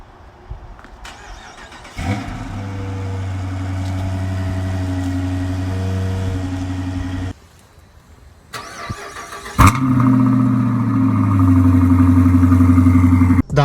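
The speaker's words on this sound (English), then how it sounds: "I decided to just go with the Dynomax raised bullets to get a little bit more sound from the car" A 2016 Dodge Challenger R/T V8 fitted with Dynomax raised bullet exhaust starts and settles into a deep, throaty idle, cuts off, then fires up again with a loud bark before rumbling on, close and powerful.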